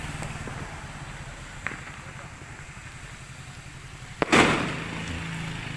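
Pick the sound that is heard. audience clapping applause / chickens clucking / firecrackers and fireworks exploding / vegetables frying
firecrackers and fireworks exploding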